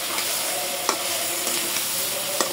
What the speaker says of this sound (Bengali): মুরগির গোশগুলো দিয়ে দেব। ভালোভাবে তেলের সাথে কষায় নেব,